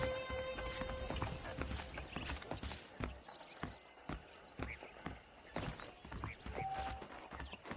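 Horse hooves clip-clop at a steady walking pace in the Western video game Red Dead Redemption, with scattered clanking tack, a faint whinny and light game ambience around them.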